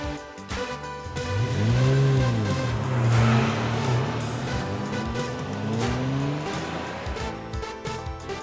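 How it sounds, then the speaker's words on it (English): A stunt car engine revs loudly in repeated rising and falling surges, close by and alone, with a rough, throaty roar throughout. "Stunt car."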